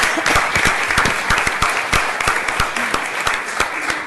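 Audience at a public hearing applauding, a dense steady burst of many hands clapping throughout, fairly loud and close.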